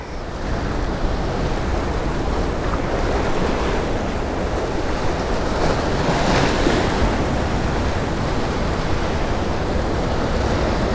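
Ocean surf breaking against a rocky shoreline at a coastal fishing spot, a steady loud roar of churning water with a bigger wave swelling midway, mixed with gusty wind buffeting the microphone and no speech.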